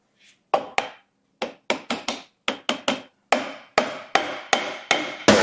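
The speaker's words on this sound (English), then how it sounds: "I think you need to hit it with a hammer." Sharp hammer blows on a seized air compressor part, about a dozen strikes, irregular at first and then quicker and louder, with no talking.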